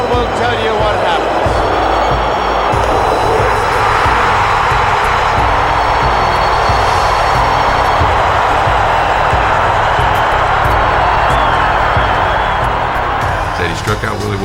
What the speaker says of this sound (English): The crowd will tell you what happened.